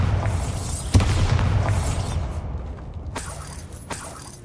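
Bombarda blasting spell in the video game Hogwarts Legacy, a sharp impact boom followed by crumbling debris, then a couple of fainter knocks.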